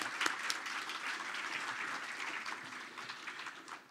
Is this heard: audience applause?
yes